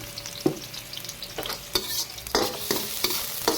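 Utensil stirring chili into squid adobo in a hot pan, with repeated scraping strokes over a soft sizzle, close and fairly quiet, no talking.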